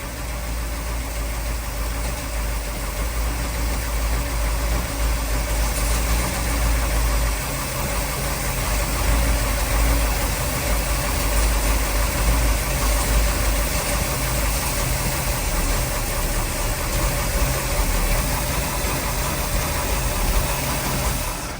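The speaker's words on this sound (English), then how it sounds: "You'll hear the engine bog down." A powerboat engine idles loudly and steadily up close, its low rumble dipping and roughening slightly as fogging oil is poured in, with no one talking.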